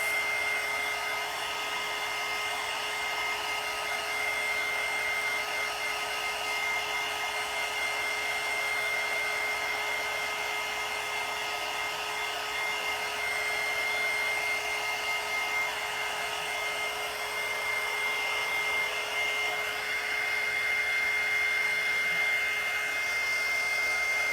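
A handheld dryer blows over fresh paint on a small Christmas-card ornament, a steady close whirring hum with a constant high tone, running unbroken and alone for the whole stretch.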